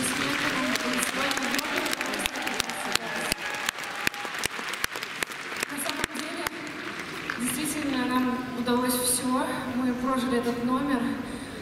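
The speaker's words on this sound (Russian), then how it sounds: "Всем спасибо огромное за эти аплодисменты." An audience at a Russian ice show applauds with dense, loud clapping that runs for several seconds, then fades under music.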